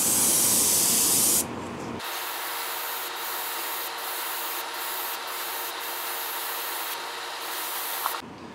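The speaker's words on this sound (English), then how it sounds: "now I have transparent brown iron oxide loaded in my airbrush. So I am going to layer this over the whole thing" Airbrush spraying transparent brown iron oxide paint onto a handmade wooden jointed pikie minnow fishing lure, a steady close airy hiss running for most of the stretch with brief pauses, with no talking.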